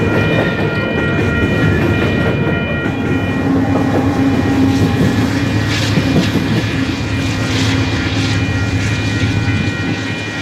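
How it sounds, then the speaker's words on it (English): A Union Pacific ethanol unit train rolls past on the Overland Route main line near Omaha and Columbus, a loud continuous rumble with steady rail rattle and clicking wheels, close and unbroken with no talking. "this ethanol train is just another type of unit train the railroad uses to shuttle energy resources throughout the country."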